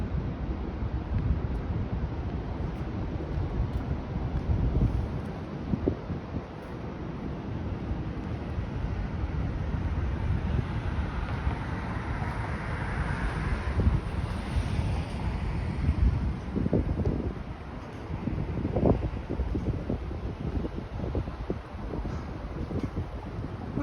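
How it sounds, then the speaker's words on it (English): Gusty wind rushes past on University Avenue in downtown Toronto on a Friday night, a steady broad roar with swelling buffets close to the microphone, joined by low street rumble and no talking. "Oh, I can feel some gusty winds flowing by."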